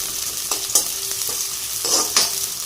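Food fries in a pan with cumin and a little salt for a spinach-mushroom pulao: a continuous sizzling hiss close by, with a few sharp spoon-scrape accents.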